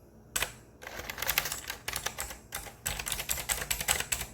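Rapid typing on a computer keyboard in bursts of clattering keystrokes, close and fairly loud, with brief pauses between runs.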